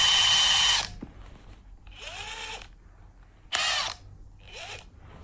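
A power drill whirs in loud, bright bursts: one long run at the start, a shorter one later and a brief final burst, with pitch sweeping up and down as it speeds and slows between quieter gaps.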